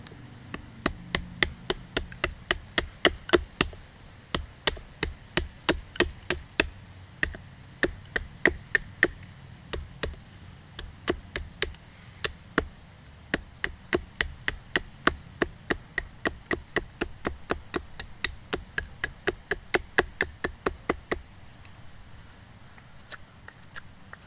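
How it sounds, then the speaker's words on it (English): A hollow-ground knife batoning and chopping through wood, giving dozens of sharp, close, woody knocks in quick irregular bursts with brief pauses, over quiet outdoor background with faint insect-like hiss. "Hang on, I just gotta cut off this piece. I hate doing that. I hate cross batoning."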